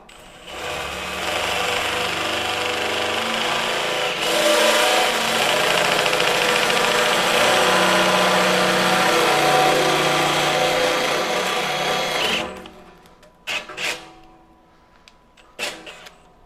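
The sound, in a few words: drilling with a Hercules cobalt step drill bit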